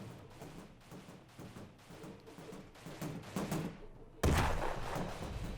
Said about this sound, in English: You can hear it impacting on the armour.